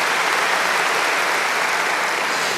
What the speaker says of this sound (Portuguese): dê mais um aplauso a ele nessa manhã